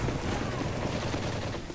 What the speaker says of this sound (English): Oh, it's a sentry gun.